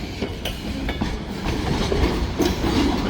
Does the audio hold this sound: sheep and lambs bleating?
no